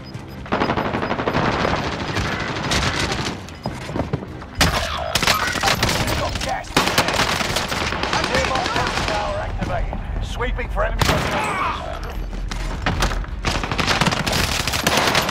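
Submachine gun fire in the Call of Duty video game, loud rapid bursts of automatic shots repeating throughout with short pauses between volleys.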